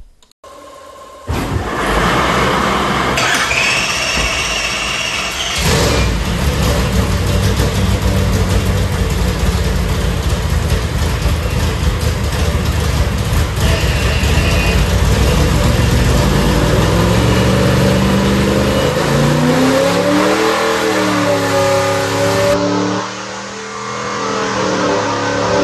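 A 575 hp 465 ci Ford FE tunnel-port V8 runs on a dyno, loud and close, holding a heavy roar, then revving up and falling back in rising and falling sweeps before dropping toward idle.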